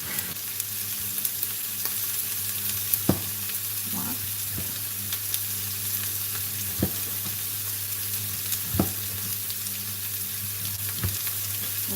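Chopped overripe tomato fries and sizzles in a pan with a steady, quiet hiss, broken by a few sharp pops and the scrape of stirring.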